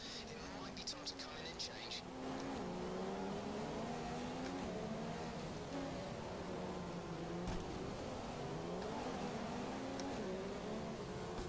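Ferrari Formula 1 car engine in the racing game F1 2015, a steady high-pitched whine that rises and falls with throttle throughout, constant and close, with a voice talking over it at times.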